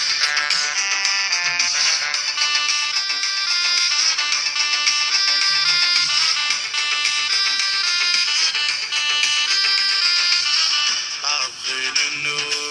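A cheerful Iraqi ringtone song plays loud and continuous, a bright repeating melody held for the whole stretch with no talking over it.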